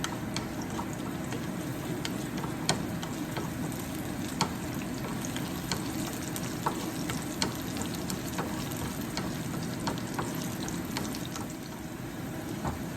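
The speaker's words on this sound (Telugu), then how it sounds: "తాలింపు వేడైందండి" Steady crackling sizzle of tempering spices frying in hot oil for tomato rasam, continuous and close, with scattered sharp pops throughout and no talking.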